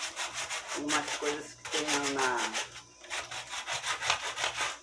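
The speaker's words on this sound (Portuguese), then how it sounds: "não precisa lixar muito, não" Hand sanding of a wooden garden piece with sandpaper, rhythmic back-and-forth rasping strokes in quick bursts, close up, while a person speaks briefly under the scraping.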